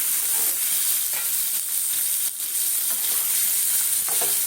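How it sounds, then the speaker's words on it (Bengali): Green peas and paneer fry in butter in a pan, making a continuous dense hiss and sizzle with faint stirring scrapes and no voices. "মটরশুঁটিটাও দিয়ে দেবো, তাহলে বাটারের মধ্যে ভাজা হয়ে যাবে"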